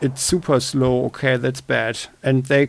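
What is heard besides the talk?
No distinct noise like a dog, phone or traffic.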